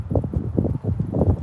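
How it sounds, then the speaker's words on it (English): Wind buffeting a microphone outdoors near the Channel Tunnel entrance: low, rumbling gusts in uneven surges, close and fairly loud, with no speech. "This is going to be really windy because I'm facing the wind now"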